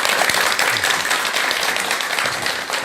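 A seated lecture audience applauds to welcome a doctor lecturing on anger, producing dense, continuous clapping from many hands at fairly close range, with no talking over it.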